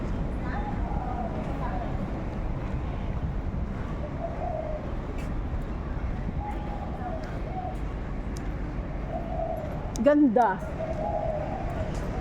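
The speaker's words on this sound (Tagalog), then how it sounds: "may ibon na dumakas" A bird coos like a pigeon over a waterfront on Discovery Bay island in Hong Kong, with soft repeated calls against a steady outdoor background, a sharper call near the end, and a person talking throughout.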